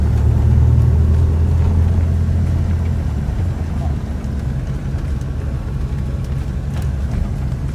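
A 1982 Corvette engine hums steadily at low pitch while riding, with a deeper rumble early that eases into constant road and motor noise; voices talk over it.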